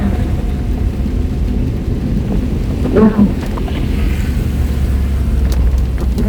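A manual car's engine is held at about 3,000 RPM while climbing an uphill road in Semarang. A loud, steady low drone runs throughout, blended with wind buffeting and a brief swell midway.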